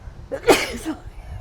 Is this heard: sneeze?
yes